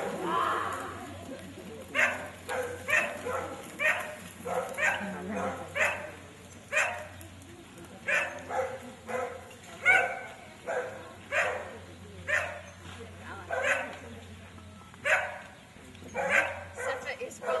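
A herding sheepdog barks repeatedly in short rhythmic bursts while working sheep outdoors, fairly close, with occasional whimpers and a voice giving commands between barks.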